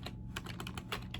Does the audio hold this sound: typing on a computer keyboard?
yes